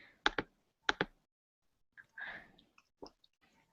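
Sharp clicking keystrokes on a computer keyboard, two quick pairs of taps near the start, then scattered softer clicks and rustling, close and fairly quiet with no talk.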